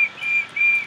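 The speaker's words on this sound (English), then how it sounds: "You don't whistle. You, like, breathe through your teeth." Someone whistles a steady high tone through the teeth, two sustained notes with a short gap between them, close and clear over a quiet background.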